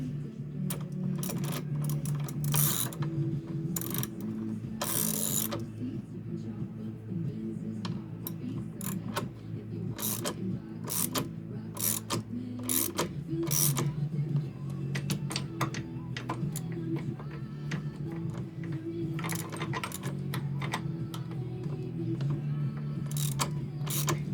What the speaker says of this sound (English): Now we'll lower the motor.